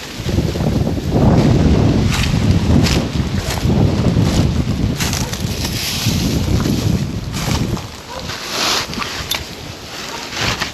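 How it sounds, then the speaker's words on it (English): Strong wind buffets the microphone in heavy, roaring gusts, rising and falling, with water lapping faintly underneath at a windy campsite near Sylmar. "Oof, this wind."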